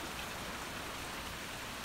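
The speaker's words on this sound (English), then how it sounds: "you see open sky from which the rain continues to fall" Rain falling steadily in El Yunque rainforest under open sky, a continuous dense hiss of drops with no pauses or voices.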